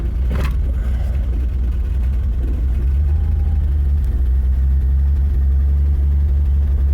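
A vehicle engine idles steadily in neutral after cranking, a low continuous rumble running close and even throughout with no talking over it.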